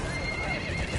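Horses clatter and whinny in a video game horse duel, galloping hooves and a neigh blended with game sound in one short burst.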